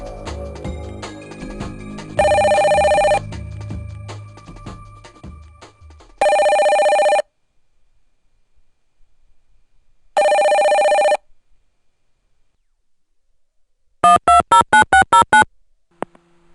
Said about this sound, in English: Why does the phone always ring at the most interesting moment?